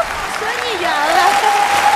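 Steady, fairly loud applause from a dating-show studio audience congratulating a contestant continues throughout, while a voice speaks over the clapping.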